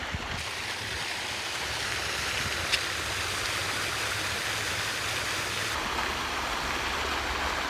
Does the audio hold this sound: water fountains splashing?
yes